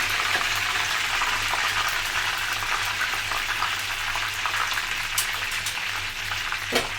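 Tilapia frying in a pan, giving a loud, steady crackling sizzle throughout with occasional sharper pops.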